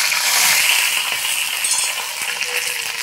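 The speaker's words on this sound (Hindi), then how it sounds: "फ्रेंड्स अब हम इसमें डालेंगे कढ़ाई में प्याज" Chopped onions fry in a kadhai with a bright, hissing sizzle, broken by light metallic clinks and scraping as they are stirred, and no talking.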